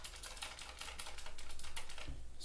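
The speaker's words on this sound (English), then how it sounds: "Still very clicky sound. So I love Red Dragon. They are a great budget mechanical keyboard." Rapid, clicky typing on a Red Dragon budget mechanical keyboard, a fast run of crisp keystrokes close by with no voices.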